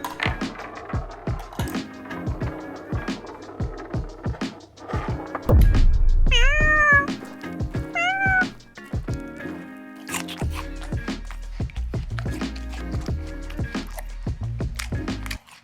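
Several meows from pet cats, some rising and wavering and clustered in short bursts, come through over rustling, zipper-like and knocking handling noises. There is no talk.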